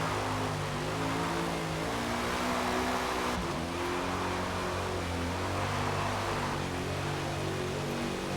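A race car engine in a racing video game drones steadily, its harmonics climbing as it pulls through second and third gear, with a brief shift dip partway through and no talk.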